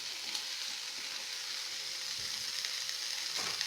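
Chopped paneer and cashews fry in hot oil in a pan, giving a steady, close hiss of sizzling with a few faint stirring scrapes near the end.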